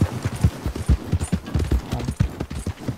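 Rhythmic clip-clop of a horse's hooves sounds while riding through a town in the video game Red Dead Redemption 2, a loud, close, irregular series of thuds with no talking.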